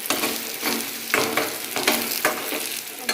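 Pumpkin slices sizzle and fry in hot oil in a home kitchen, a constant bright crackle with periodic louder bursts as pieces are stirred or turned, close and steady with no talking.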